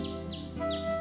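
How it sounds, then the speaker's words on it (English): Birds chirp outside in the visual novel game Da Capo II: three quick, descending tweets repeat at an even pace over a steady, humming musical background, with no voices. "I could hear the birds chirping away from outside."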